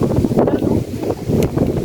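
Loud, steady wind in the San Pablo highlands buffeting the microphone with a constant low roar and rumble, briefly easing then gusting again.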